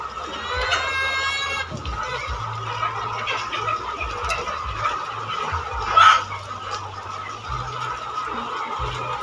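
Chickens cluck and squawk in a yard as they are chased and caught, with a loud flapping burst partway through, all over a steady hum of background noise.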